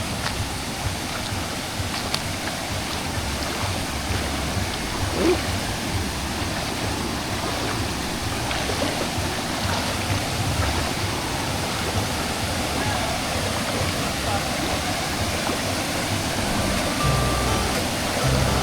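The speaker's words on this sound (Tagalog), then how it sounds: "Dito tayo sa mismong harap ng falls na to." Small river waterfall at Puning Falls in Bulacan, a constant full roar of falling water heard up close in front of the falls, steady for the whole stretch, with faint voices now and then beneath it.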